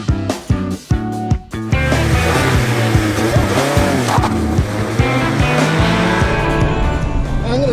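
A 2019 Mazda Miata or a Ford Fiesta ST on a timed lap, held mostly in second gear. The engine roars loud and close, with quick revs and gear changes at first, then a sustained high drone with tire squeal.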